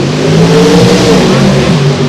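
A D-modified production drag car, a Monza, accelerates hard down the strip at a hot rod reunion, its engine roaring loud and close with a steady, sustained pull and rising harmonics throughout.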